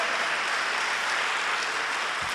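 Church congregation clapping for the Lord, a dense continuous wash of many hands, moderately loud and sustained without breaks.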